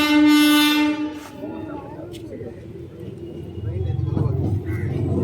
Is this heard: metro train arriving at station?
yes